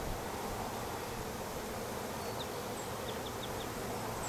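A bee near a beekeeper's hive as colonies are boosted, buzzing faintly and steadily against a constant hiss of outdoor background noise, with a few brief higher chirps and no voices.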